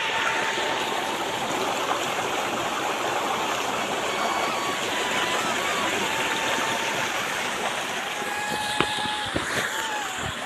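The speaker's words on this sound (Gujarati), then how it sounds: "જોઈ શકો છો પાણીનો અવાજ કેવો આવે" A village stream flows and splashes over rocks as a steady, continuous broadband rush, with a few brief sharper sounds near the end.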